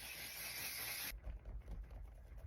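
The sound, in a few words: Anastasia Impeccable Setting Spray being sprayed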